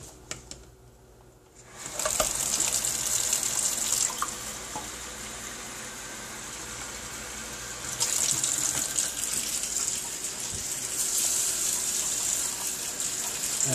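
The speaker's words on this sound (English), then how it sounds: "now we're going to just add our water. So I'm going to go to the faucet." A kitchen faucet is turned on and runs steadily at close range, a constant hissing splash that brightens and fills as water collects in a cup, with no talking over it.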